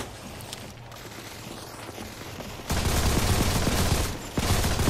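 Rapid gunfire from the mobile shooter Modern Combat 4: Zero Hour bursts in loud and dense midway, following quieter ambient game sound, with a brief dip before firing resumes.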